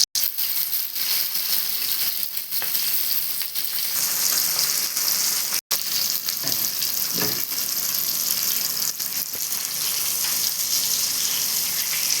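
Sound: ribbon fish frying in oil

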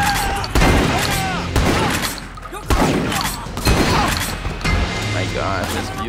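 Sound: shotgun firing in the video game Triad Wars

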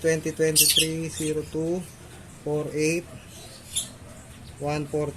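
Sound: bird, likely a banded pigeon, calling

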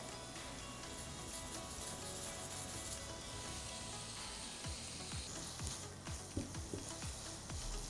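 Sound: carrots and beets sautéing in a pan

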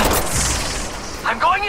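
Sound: gunfire in the video game Apex Legends Mobile

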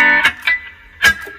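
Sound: thin reggae guitar tone through wah effect, mix 100%

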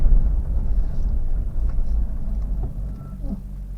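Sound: Honda HR-V engine idling

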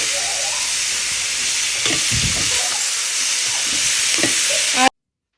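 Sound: vegetables cooking in a pan in the kitchen

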